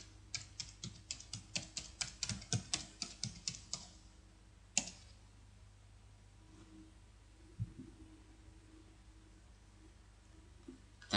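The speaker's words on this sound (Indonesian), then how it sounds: "Ketikkan di sini" Someone types a web address on a computer keyboard, with a quick burst of clear key clicks over the first four seconds, then a single louder keystroke and a few sparse faint taps against a low room hum.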